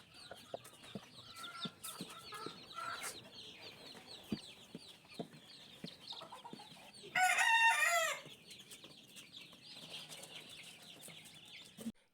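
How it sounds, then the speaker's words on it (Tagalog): Newly hatched gamefowl chicks in a box give continuous high, rapid peeping close by, and a rooster crows loudly for about a second midway. "Hindi pa agad-agad kakain ang mga sisiw na ito kaya sa kahon lang sila ngayon maghapon."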